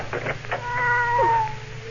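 An alley cat meows in an old-time radio drama, one drawn-out, rising and falling cry, close and clear over a low steady broadcast hum.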